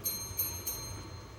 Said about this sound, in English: Quick demo on the table which will indicate time for warning bell